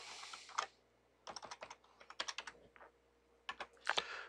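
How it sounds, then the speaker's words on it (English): A password is typed on a computer keyboard: bursts of quick, crisp key clicks broken by short pauses, close and quiet, with no one talking. "Type in my password."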